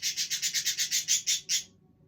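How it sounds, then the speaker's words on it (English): A pet budgie chirping loudly and close by, a fast run of about ten sharp, bright, evenly spaced chirps that stops abruptly, with no talking. "It's a budgie, little one, but very loud."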